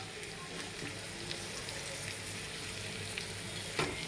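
Masala for egg bhurji frying in a pan while being stirred, a continuous soft crackling sizzle with small scraping taps, fairly quiet and close.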